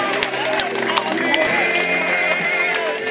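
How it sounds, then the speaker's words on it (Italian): Crowd applause and scattered cheering at a dog show prize-giving fill the space, a steady clatter of clapping with voices mixed in. "Un applauso ancora per Balù, terzo classificato."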